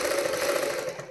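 A sewing machine running steadily while stitching a curved pattern on a salwar bottom, a close continuous whirring hum with no pauses and no voices.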